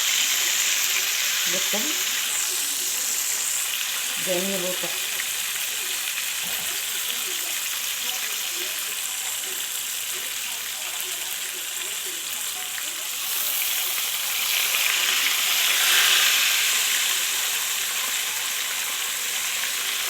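Marinated fish frying in hot oil gives a steady, loud sizzle and crackle that fills the whole stretch, with a voice speaking briefly near the start over the bubbling.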